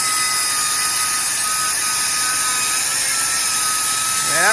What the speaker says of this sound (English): Grind down those welds.